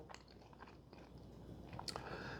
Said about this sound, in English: The crunch of the shell.